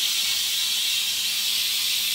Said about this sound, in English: And you can see the steam is releasing, so it's about ready to go.